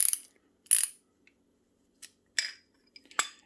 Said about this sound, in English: you're going to get your two ratchets and you're going to set them for removal